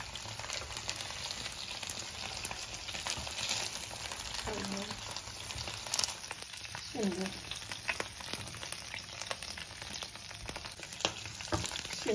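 Entrecote steak fries in a pan at home with a steady, even sizzle and some soft clinks from stirring or turning. A voice talks now and then over the frying.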